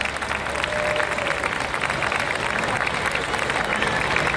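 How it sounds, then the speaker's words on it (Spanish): Audience at an annual school gala applauding children after a dance performance, a dense, sustained wash of clapping from a large crowd, with a voice faintly underneath. "De verdad que se merecen otro aplauso,"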